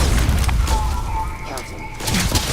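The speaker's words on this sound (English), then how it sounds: "Grenade out." A grenade detonates in the video game Starfield, giving a loud, rumbling blast with a dense low roar that swells, dips briefly and surges again, mixed with game sound effects.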